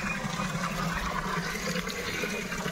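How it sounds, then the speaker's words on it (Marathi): Water rushes steadily through a farm field, a constant broadband gushing flow that stays close and even throughout with no pauses. "हे सगळं पाणी पाणी पाणी पाणी पाणी पाणी पाणी"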